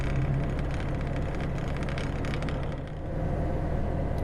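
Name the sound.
1937 Lanchester 11 engine driving in top gear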